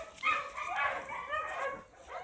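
An old toothless dog gives a run of soft, mouthy barks and yips, close and fairly steady across the clip, with a whimpering edge and no other sounds.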